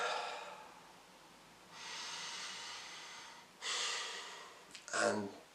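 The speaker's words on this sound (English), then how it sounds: "take a deep breath" A person takes slow, deep breaths close to the microphone, a long airy inhale followed by further breathy exhales and a sharper final intake, heard alone without talking.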